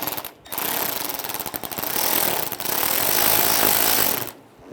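Power tool driving a screw into a headlight assembly on a 2006-2009 Mercedes-Benz E350, loud rattling bursts of motor buzz in two or three runs, close up.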